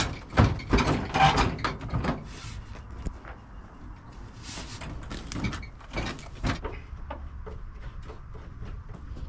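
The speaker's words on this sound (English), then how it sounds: "So I'm going to fit this door back onto this Beetle, using Lucas's muscles." Fitting a door back onto a classic VW Beetle: irregular metallic clunks, knocks and scraping rattles close by, loudest at the start, then softer intermittent thuds, with no talking.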